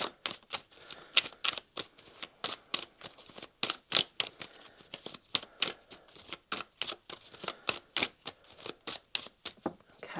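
A deck of tarot cards is shuffled by hand, producing a long run of crisp, evenly spaced slaps and riffles. It is close and clear with no talking.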